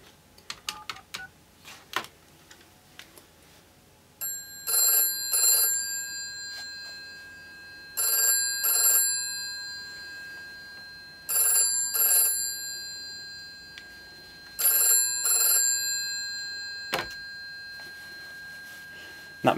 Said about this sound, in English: The Grandstream does ring the bells quite nicely, although you do have to enable the high power mode in the user interface.